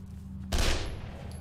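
An enemy fires a gun in the horror game Condemned: Criminal Origins, a single loud, booming shot that rings out and decays over about a second against a low background hum.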